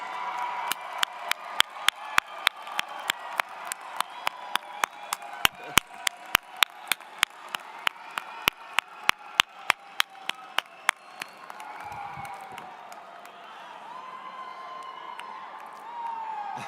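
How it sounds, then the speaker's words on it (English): Graduation ceremony audience at a university commencement applauds in crisp, evenly spaced claps that sound sparse and fairly close, then thin out and soften toward the end. "join me in giving them a round of applause"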